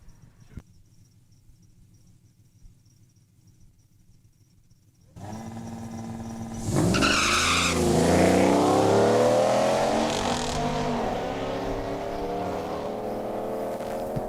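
Street-legal drag racing cars launch down a quarter-mile strip at Saskatchewan International Raceway: after quiet idling, loud engines burst in and rev up hard through rising gear pulls, then hold a sustained roar.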